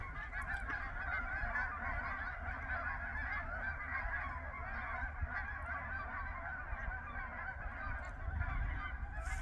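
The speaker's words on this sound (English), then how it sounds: "no shortage of ducks or geese" A dense chorus of geese honking continuously, many birds calling over one another at moderate distance, with a low steady rumble beneath.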